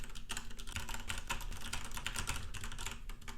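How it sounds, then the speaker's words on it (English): Someone types on a mechanical keyboard with Cherry MX Red switches, producing a quick, steady stream of close, light key clicks. "now I'm gonna type on the keyboard with MX Cherry Red switches"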